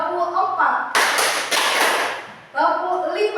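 A group claps four sharp, evenly spaced claps together, bracketed by a voice speaking before and after.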